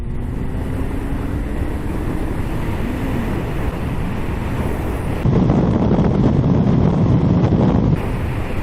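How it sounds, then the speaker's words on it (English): Suzuki GSX 1250 FA motorbike pulling hard in fourth gear on a freezing day, a steady engine drone buried under heavy wind buffeting that swells louder partway through. "I'll leave it in 4th gear so you can see even in 4th gear just how well it does actually pull in"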